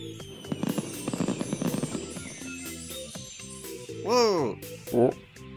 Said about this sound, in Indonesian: kembang api